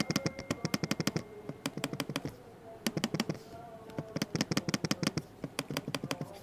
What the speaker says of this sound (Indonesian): Ini adalah tipe yang bukan silent banget ya untuk trackpadnya, tapi suaranya masih dalam batas wajar.